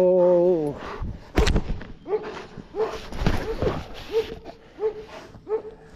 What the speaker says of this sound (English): You can see I got way too many dogs.